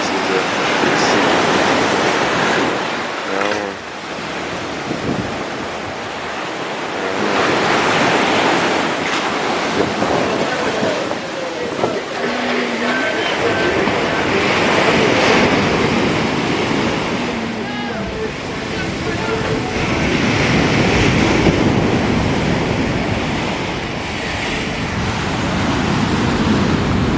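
Rough sea surf pounds steadily at a beach in Ocho Rios, Jamaica, a loud continuous wash of breaking waves with heavy wind buffeting the microphone and brief voices mixed in.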